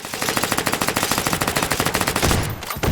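Rapid automatic PDW fire with tracer rounds in the VR shooter H3VR, a steady loud stream of evenly spaced shots for several seconds that breaks off near the end.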